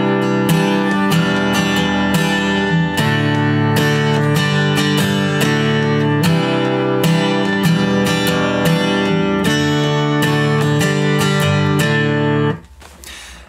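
Guitar strumming the chords of a song in a steady down-and-up rhythm, loud and close with bright, full chords, ending in a muffled stop.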